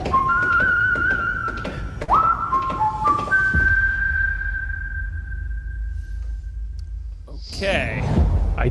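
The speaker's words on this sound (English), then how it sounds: "The whistling at the end, it's too meta." Someone whistles the Star Trek theme at the close of a Star Trek: Starfleet Academy teaser trailer: a few clear, sustained notes rising to a long held tone over a low rumble, with speech around it.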